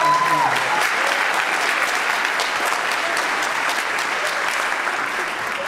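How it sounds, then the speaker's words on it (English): Audience at a high school spring choral concert giving sustained applause, an even, dense wash of clapping that stays loud and steady from start to finish with light crowd noise beneath. "Would you please give POPS a round of applause?"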